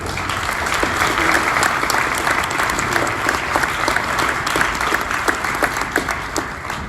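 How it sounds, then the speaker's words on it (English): A big round of applause at an award event, a dense crowd clapping continuously and loudly for the whole stretch with individual claps standing out. "Let's give them a final big round of applause as they leave."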